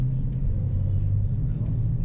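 A car engine hums as a learner driver gently adds throttle in a 50 km/h zone during a first driving lesson. The sound is a steady, close, low rumble inside the cabin with no sharp rise in revs.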